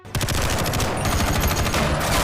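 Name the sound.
gunfire in an action film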